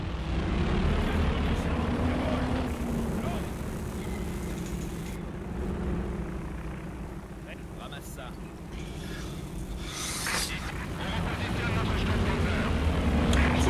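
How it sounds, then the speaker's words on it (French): Supply aircraft fly in over a Company of Heroes 2 battlefield with a steady, low propeller-engine drone that holds throughout, while people talk over it. "Les avions de ravitaillement se dirigent vers le champ de bataille"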